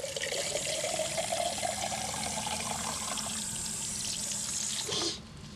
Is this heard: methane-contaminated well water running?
yes